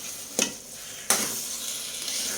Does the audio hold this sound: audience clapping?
no